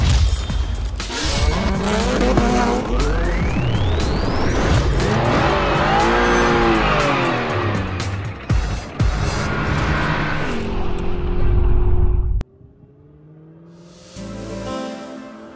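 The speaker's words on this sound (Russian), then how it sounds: "Звук мотора, какая мощность!" A BMW E34 car engine runs and revs loudly with rising and falling sweeps and some tire squeal, then cuts abruptly near the end, leaving a quieter low hum and a brief final burst.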